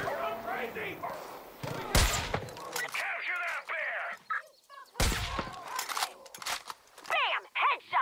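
Gunfire in Far Cry 5 rings out in a few sharp, loud shots among the game's ambient sounds and animal noises, with a voice talking over part of it.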